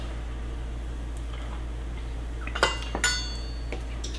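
A metal spoon clinks a few times against a bowl while mixing cocoa powder with espresso powder, faint scattered taps over a low steady hum, with no talk.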